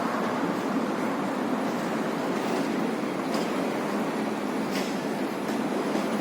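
A train running on a Malaysian railway line gives off a steady, moderately quiet rumble with faint wheel clatter, unbroken throughout.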